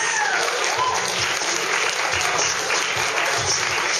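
A crowd at a live poetry performance applauds loudly with a dense, continuous wash of clapping, with scattered cheers mixed in throughout.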